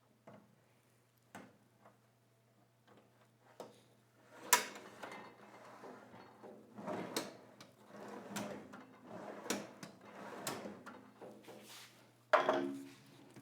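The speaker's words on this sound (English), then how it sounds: "So let's go ahead and test fit to see if the drawers will fit." Drawers of a Harbor Freight five-drawer tool cart slide in and out on newly fitted slides, a series of quiet rolling rasps and soft knocks and clunks, close by, ending in a louder thump, with no talking.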